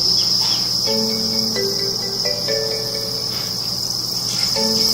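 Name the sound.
farmed crickets chirping in pen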